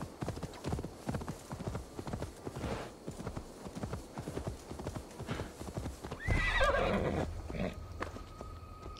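A horse's hooves clip-clop in a steady, close rhythm in Assassin's Creed Valhalla, and one loud whinny breaks through near the end.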